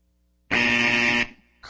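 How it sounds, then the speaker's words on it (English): A radio show buzzer sound effect blares once, a loud harsh electronic tone lasting under a second, followed by a brief faint noise. "If you ain't got nothing to say, don't run me with a buzzer."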